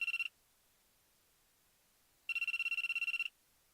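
Phone ringing in a visual novel video game: a clean electronic trill, a short burst cut off at the start, then one full ring about a second long after a pause, alone and quiet.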